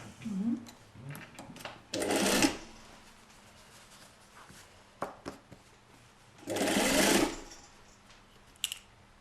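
Sewing machine stitching a corset seam, two loud bursts of fast whirring separated by quiet stretches with faint handling clicks.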